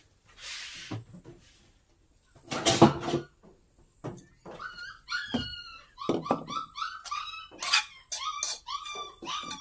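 A small dog yips and barks in a rapid series of sharp, high-pitched bursts, fairly close, after a few brief knocks and rustles.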